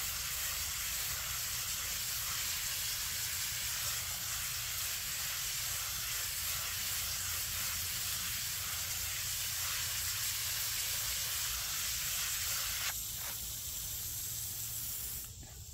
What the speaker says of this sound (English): 30 seconds with the garden hose